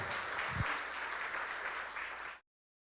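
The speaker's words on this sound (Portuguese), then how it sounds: "Aplauda Jesus." Church congregation applause during an evangelical Portuguese-language service, a steady, full wash of many hands clapping together that cuts off abruptly after about two and a half seconds.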